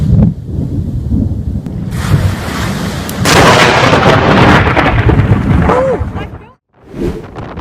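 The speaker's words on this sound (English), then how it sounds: "Lightning strikes startle us with their loud thunder and a bright white streak across the sky" Loud, close thunder from a lightning strike during a storm, a rumbling roar that swells and holds for several seconds before cutting off, then a second rumble, with wind and rain noise throughout.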